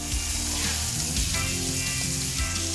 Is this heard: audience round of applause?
no